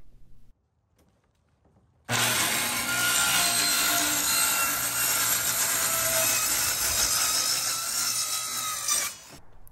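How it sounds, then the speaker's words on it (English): Power saw cutting through a large sheet of plywood on a sturdy table, building the lid of a cinder block smoker's smoke chamber; steady loud rasping cut runs about seven seconds after a short quiet start, then stops abruptly. "it was time to cut down a large piece of plywood to become the cover for our smoke chamber"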